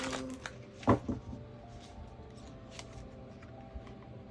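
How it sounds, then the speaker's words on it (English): Tarot cards being shuffled close by, a few soft riffling and tapping bursts with one louder flurry near the start, then quiet handling in a still room. "One more shuffle."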